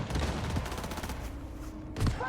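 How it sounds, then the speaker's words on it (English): Gunfire from a firefight in the video game Cyberpunk 2077 crackles as a rapid string of shots, fairly loud and continuous with a heavier burst near the end. "Is there a firefight going on over here?"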